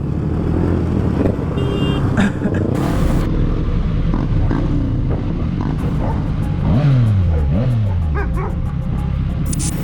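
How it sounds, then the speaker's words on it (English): A dog chasing a motorcycle barks and yips excitedly while the motorcycle engine revs and passes close by, with road noise throughout. "Dogs are known for running after motorcycles"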